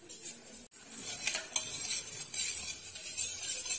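A spoon stirs a pickle mixture of vinegar, amla, carrot and pineapple, making continuous close scraping and clinking against the bowl, with no talk.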